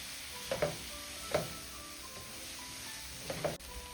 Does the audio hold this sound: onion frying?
yes